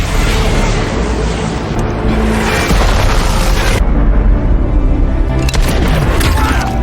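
RPG rocket explosions in an action movie battle against terrorists, heavy booming blasts with cracking debris and rumbling aftermath, loud and continuous, with some speech in the mix.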